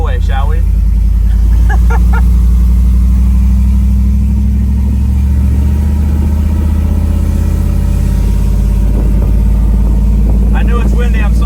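A 2014 GMC Sierra 5.3 V8 fitted with 1 7/8-inch Speed Engineering long tube headers cruises on the highway, its deep, loud exhaust drone steady and close beneath heavy wind buffeting, with a voice speaking at moments.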